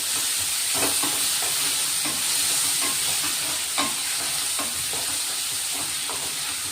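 Onions and tomatoes sizzle in a pan for bitter gourd curry, a steady loud frying hiss with soft scraping stirs throughout and no voices.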